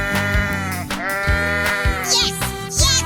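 A goat in a 3D animal slide video game gives loud bleats, some wavering and some sharp, over steady rhythmic background music.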